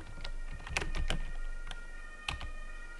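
A computer keyboard is tapped in a quiet room to type a shortcut name on Windows 10, with a short run of isolated clicky keystrokes of varying loudness, fairly close.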